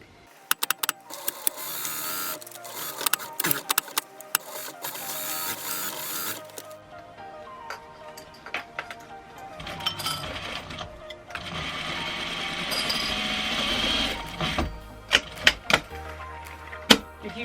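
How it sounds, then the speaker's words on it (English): A sewing machine stitches around the edge of a fabric sling bag for cats and small pets, running in steady mechanical bursts of rapid whirring and clicking, close and fairly loud with no talking. "I'm going to sew from here all the way around and stop at this other pin"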